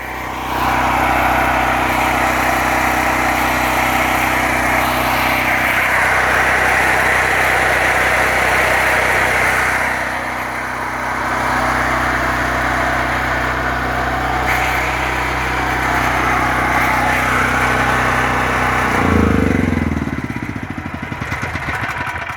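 A portable generator that sat unused in a shed for about ten years runs loaded after a cold start, a loud steady close engine drone with slight shifts in pitch and load throughout.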